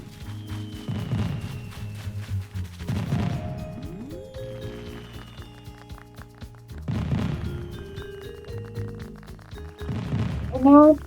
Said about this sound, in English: Oh, it's doing the cool fireworks!